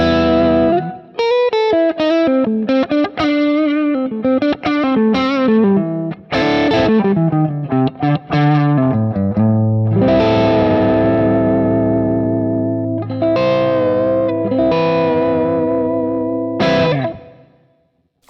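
An electric guitar runs through a Kemper amp with a boost engaged, giving a thick, distorted tone. It plays ringing chords and melodic lead lines for a long stretch, loud and alone, then fades out at the end.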